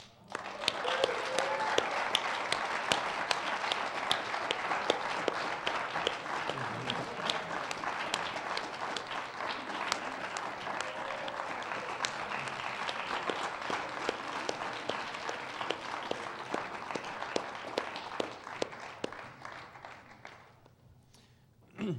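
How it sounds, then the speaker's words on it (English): An audience at a university Latkes vs Hamentashen debate gives a long round of applause as debaters and moderators take the floor, steady clapping with occasional whoops that fades out near the end. "let's just welcome our debaters and moderators to the floor with a huge round of applause"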